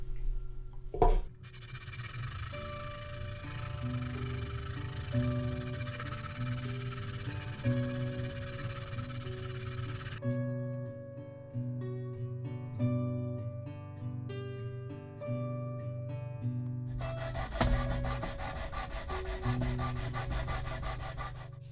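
Sandpaper rubs steadily over wood in long continuous strokes, a loud dry rasp that shifts in texture partway through.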